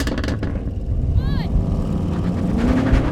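An Audi RS6 launches hard off the line in a drag race against a BMW M5, AMG E63 and Porsche Panamera, its engine roaring loud and close as someone talks over the noise.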